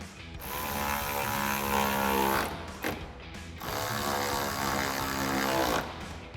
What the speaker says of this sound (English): We can tighten that down with an 8mm socket.